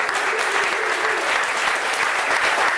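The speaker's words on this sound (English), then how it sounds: "A big round of applause." Dense, continuous applause from a crowd at a 2012 campaign fundraiser for San Francisco supervisor candidate David Campos, a sustained even wash of many hands clapping at once.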